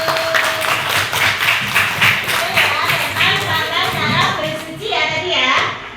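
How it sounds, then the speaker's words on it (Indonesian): A class claps in steady rhythmic unison for a student group, loud and close, with children's voices mixed in and chatter rising near the end. "tepuk tangan kelompok 1"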